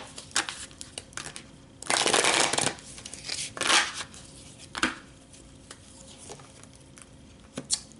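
Tarot cards are shuffled by hand in a few separate bursts, with a loud riffle near the start and quieter flicks and taps between, close up with no talking.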